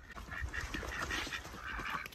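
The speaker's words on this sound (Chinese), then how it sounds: "鸭子来了，把它逼到里面去" Domestic ducks on a farm quacking and honking repeatedly in a nasal, overlapping chatter, fairly close and continuous over a low rustle of movement.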